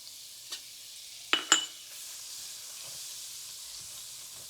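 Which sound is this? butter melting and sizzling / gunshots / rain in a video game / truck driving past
butter melting and sizzling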